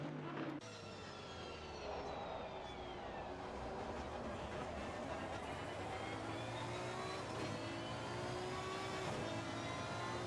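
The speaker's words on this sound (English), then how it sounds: "Oh, listen to the howl of that car." Old-school V12 Aston Martin GT3 race car in Assetto Corsa Competizione at Suzuka, its engine howling steadily with rising and falling harmonic sweeps as it holds revs through a long stretch, loud and continuous with no talk.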